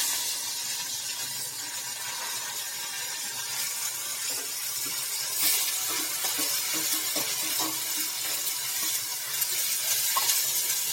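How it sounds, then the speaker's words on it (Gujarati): Cut cauliflower and potato pieces drop into hot oil seasoned with asafoetida, giving a moderate steady sizzle with scattered spatter and stirring taps, growing a little busier partway through, with no voices. "ત્યાર પછી તેમાં આપણે ફ્લાવર અને બટેકાનું જે કટિંગ કરેલું છે તે નાખી"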